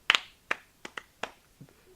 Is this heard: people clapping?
yes